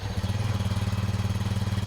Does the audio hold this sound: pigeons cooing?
no